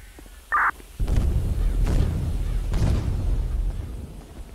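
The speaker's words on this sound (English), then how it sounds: "Go ahead and stop your buddy from the explosions real quick." Deep explosions rumble in a police roleplay video game, a short tone followed by a sustained low boom with two more heavy blasts rolling in at roughly one-second intervals, loud and close.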